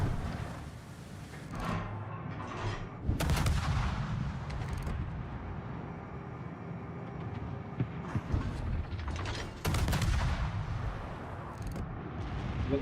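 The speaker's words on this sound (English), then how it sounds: "Concentrate fire on the enemy warship." Warship main guns firing in World of Warships: a low rumbling battle backdrop punctuated by several heavy booming salvos, with distinct big blasts around the third and tenth seconds.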